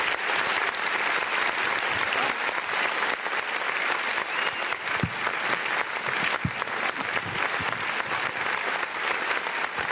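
Sustained audience applause at a community federation unity dinner, thick continuous clapping from a large crowd with occasional sharper claps, steady and loud throughout, no distinct whistle standing out.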